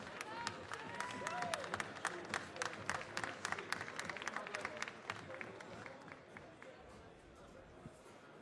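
Applause from a crowd welcoming a barista contestant at the World Barista Championship France 2016 final, scattered claps building into a fuller round and then thinning out, with murmuring voices underneath.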